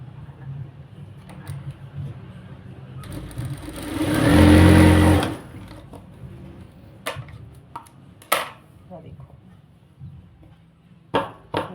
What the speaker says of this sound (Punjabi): ਸਿਲਾਈ ਆਪਾਂ ਨੀਚੋਂ ਸਟਾਰਟ ਕਰਨੀ ਹੈ